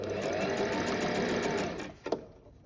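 A sewing machine runs steadily, stitching a crochet rustic flower pouch with a fast, even whir up close, then briefly reverses and stops with a couple of soft clicks.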